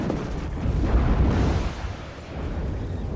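MW1 munitions dispenser air strike in WARNO, a heavy rolling wall of explosions with deep booms swelling and slowly easing off, no talk.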